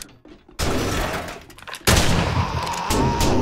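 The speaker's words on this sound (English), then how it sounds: "These shotguns are awesome." Shotgun fire in the 7 Days to Die video game, two loud blasts with a quieter start and a sharp heavy report partway through, ringing on afterward at close range.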